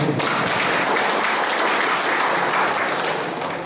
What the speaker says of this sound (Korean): 다시 한번 우리 손으로 이렇게 박수하겠습니다